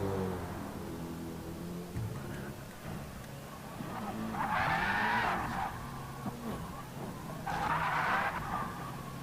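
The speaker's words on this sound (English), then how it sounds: "Oh, he went off track. Whoa, and he spun around." BMW race car in a racing video game skidding off track and spinning around: engine drone under two loud tire-squeal bursts a few seconds apart, each about a second long.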